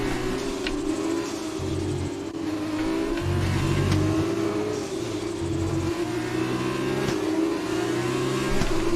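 F2 race cars on the Abu Dhabi track in a racing video game, engines droning and revving steadily with rising and falling pitch as several cars queue closely, loud and continuous with no talk.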